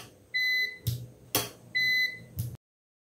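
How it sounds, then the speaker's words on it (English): A Prolink PRO 1201 SFC UPS alarm sounds two pairs of electronic beeps, each a long steady tone followed by a short one, with clicks in between, loud and close, signalling a battery needing replacement. "Beeping every 2 seconds means UPS need battery replacement"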